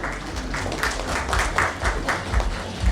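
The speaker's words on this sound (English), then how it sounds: "Round of applause for Ms." An audience at a media leadership panel gives a round of applause for the moderator, with moderate, somewhat uneven clapping carrying steadily for a few seconds over a low background hum.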